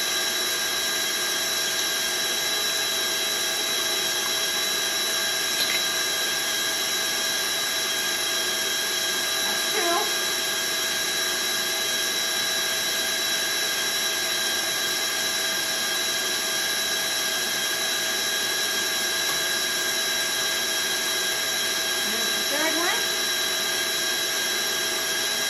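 An electric mixer whirs steadily at high speed through coconut pound cake batter in a bowl, a constant even drone with a few faint scrapes.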